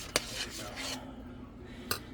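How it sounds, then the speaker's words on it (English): Utensil scraping and stirring through chicken and rice in a pan, with two sharp scrapes against the pan bottom and softer rubbing between, close up and alone. "And so just mix that in."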